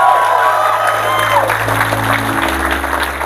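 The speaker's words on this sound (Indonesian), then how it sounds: "Tepuk tangan dong untuk SSJ." A crowd at a Sundanese community gathering applauds steadily throughout, mixed with scattered cheers and a low sustained musical hum underneath.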